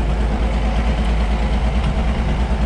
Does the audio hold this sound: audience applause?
no